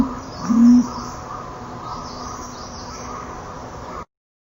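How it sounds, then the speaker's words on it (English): A pigeon gives a soft, low coo at close range, a brief rounded call near the start followed by quieter background. "But listen to the cooing of this pigeon."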